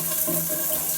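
Water runs steadily from a tap into a bathtub during a dog's bath, a continuous close splashing rush with no voices over it.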